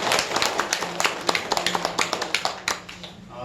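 A church congregation claps during a Sunday service, with distinct, fairly quick hand claps in an uneven rhythm, moderately faint in a roomy space and fading at the end.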